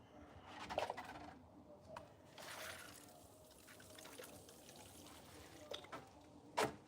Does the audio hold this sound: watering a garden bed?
yes